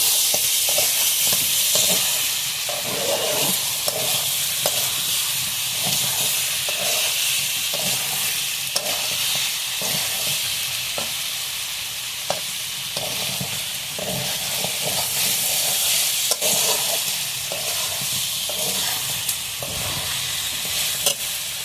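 Spices, garam masala paste and meat for tahari stir-fry in a pan with a continuous loud sizzle, while a utensil scrapes and stirs in a steady rhythm throughout.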